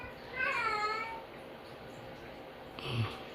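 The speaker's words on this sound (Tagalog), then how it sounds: "Ito naman yung pusa naming hirap pa inumin dati." A house cat gives a drawn-out meow near the start, followed by a quieter stretch and a short, low sound at the end, close by with no speech.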